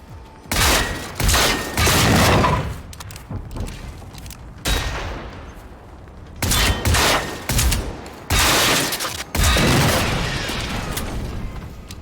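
Gunfire in the video game Generation Zero comes in several loud bursts of rapid shots, separated by brief quieter gaps, with no talking.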